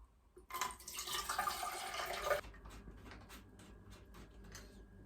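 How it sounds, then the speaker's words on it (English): Homemade fruit juice pours steadily into a jug for about two seconds, a close, splashy liquid stream, then stops, leaving faint dripping and light handling sounds. "I'm going to attempt to pour this in without spilling it into a jug."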